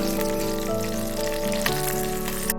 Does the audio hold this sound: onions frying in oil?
yes